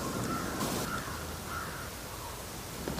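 Crows caw repeatedly in a snowy wolf hunting spot, a series of harsh calls spaced every half second or so at moderate distance over a steady background hiss, with no voices.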